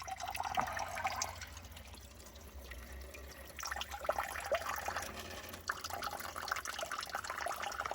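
Cold spring water dripping and trickling steadily into a bag outdoors, a continuous close splashing patter with scattered louder drops and no talking.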